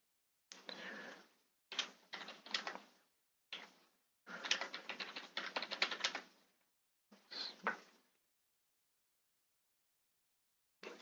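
Keys clack on a keyboard in short separated bursts of typing, close and fairly quiet, with pauses between runs and no talking.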